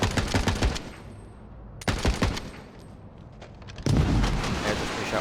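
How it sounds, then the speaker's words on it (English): A rocket launcher fires in Borderlands 3 during a Mayhem 3 Moze fight against the Gravewarden, giving three loud blasts, each with a short burst of crackle and rumble, the last trailing into sustained noise. "There's a free shot with the rocket launcher."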